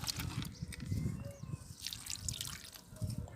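Liquid fertilizer is poured from a glass onto a potted rose plant, heard as quiet, close, irregular splashing drips and trickles spread across a few seconds.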